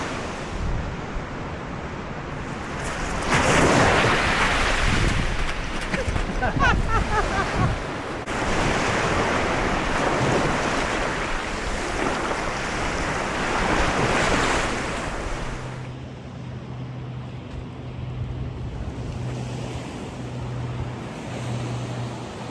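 Ocean waves surging and washing ashore near an old Coast Guard station, a loud broadband roar with strong wind buffeting the microphone, easing after about fifteen seconds into a quieter wash with a low steady drone.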